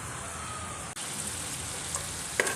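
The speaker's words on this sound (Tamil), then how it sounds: "இது ஒரு 2 நிமிஷம் கொதிக்கட்டும்." A pan of turmeric and onion broth simmers with a steady soft bubbling hiss throughout, and a couple of faint clinks come near the end.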